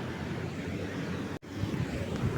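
A waterfall near the Droneshwar Mahadev temple gives a steady, broad rush of falling water. Wind buffets the microphone over the roar, with a brief dropout in the middle.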